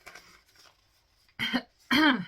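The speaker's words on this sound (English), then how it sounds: "I was hoping I wouldn't have to pause and cough in this episode" Two sharp, close coughs in quick succession follow a brief stretch of quiet breathing and faint sounds.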